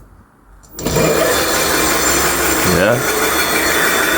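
An electric bike motor running unloaded with the wheel spinning freely: after a brief quiet moment it starts abruptly into a loud, steady, close-up whirring rush with a grinding edge, its pitch dipping and rising once midway. A voice briefly speaks.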